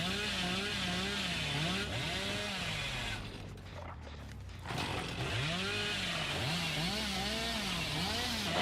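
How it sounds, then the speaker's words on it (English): A chainsaw in the video game Dead by Daylight revs and sputters continuously, its engine pitch wavering up and down in repeated swells, briefly dipping before surging back to a steady, close, buzzing roar. "just holding the chainsaw on this mid-map"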